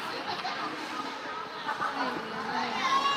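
Comox parents cheer at an under-13 youth ice hockey game against Kerry Park, a steady mass of crowd voices and shouts echoing through the rink with no pause.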